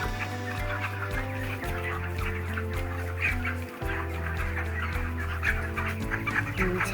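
Broiler chickens on a hot poultry farm rooftop cluck and murmur in a dense flock chorus, layered over a steady low hum from electric fans running nearby.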